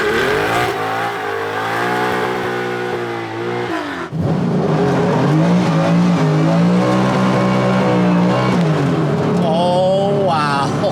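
A modified Porsche 911 accelerating hard from inside the car, the engine note climbing loud and steady, dropping briefly around the gear change and then rising again with a strong, rising drone.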